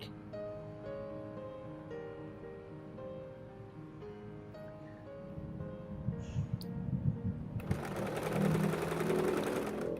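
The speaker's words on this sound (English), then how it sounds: "I sewed a straight stitch and also a zigzag stitch on it" A sewing machine runs steadily, stitching straight and zigzag seams on fabric for homemade harem pants, with its motor whirring continuously and growing louder and harsher toward the end, with no speech.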